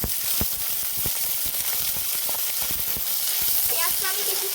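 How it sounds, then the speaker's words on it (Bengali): Chopped onions fry in hot oil in a kadai with a steady hiss and sharp stirring clicks, and a voice briefly speaks near the end. "পেঁয়াজটা আমি কিছুক্ষণ নাড়াচাড়া করে ভেজে নেব"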